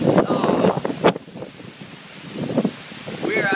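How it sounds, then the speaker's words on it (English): Severe thunderstorm in Taft, Tennessee with 60 mph wind gusts driving sheets of rain against a house, heard as loud, rushing wind buffeting the microphone in surges, with a voice speaking briefly over the roar. "We are absolutely getting blasted here with this thunderstorm. 60 mile per hour wind gusts"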